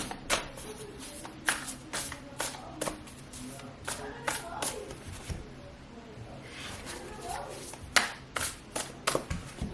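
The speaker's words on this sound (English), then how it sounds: "a card that flipped in the deck as I was shuffling" A deck of tarot cards being shuffled by hand, giving repeated crisp riffling and tapping bursts over about ten seconds, close and fairly quiet, with a low background hum.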